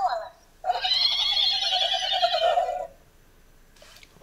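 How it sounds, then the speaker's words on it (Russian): A single loud, drawn-out horse neigh lasts about two seconds and then fades, followed by a brief quiet stretch with faint sounds. "Лошадка?"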